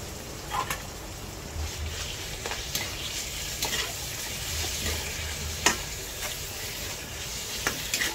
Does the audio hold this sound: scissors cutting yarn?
no